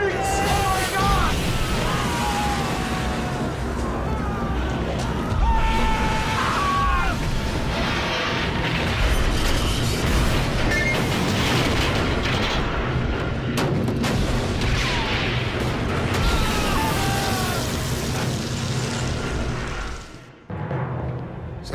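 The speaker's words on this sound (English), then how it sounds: "there was an explosion in turret 2" A film scene of an explosion in a warship gun turret: heavy booms and blasts ring through a dense, chaotic din, with shouting voices between the bursts and a sudden cutoff near the end.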